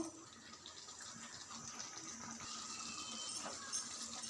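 Water running into a pot of bitter gourd gojju as it cooks, a steady soft broadband splash held at low level throughout with no talk.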